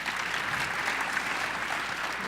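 A ceremony audience gives sustained applause for an award presentation, dense steady clapping filling the room throughout.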